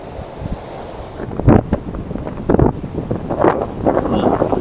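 Sea waves rolling in and breaking on the shore make a rushing surge with a few stronger crashes, heavily buffeted by wind noise on the microphone.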